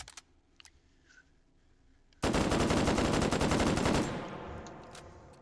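A BAR automatic rifle in the video game Hot Dogs, Horseshoes & Hand Grenades fires one loud, close, sustained burst of rapid shots lasting about two seconds. A few faint clicks come first, and the echo rings briefly after the burst.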